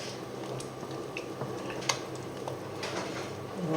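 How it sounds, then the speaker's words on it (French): Leeks and onions are stirred gently in a pan, producing soft, quiet scraping and light clinking taps against a faint frying sizzle, with no one talking. "On met nos poireaux et nos oignons. Voilà. On remue délicatement."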